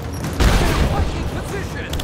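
Gunfire in Rise of the Tomb Raider comes as a dense, rumbling burst of shots that swells and then holds, loud and close, with a combat voice shouting over it.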